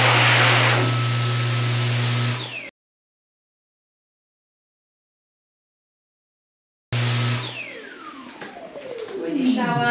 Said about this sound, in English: his Dyson hand dryer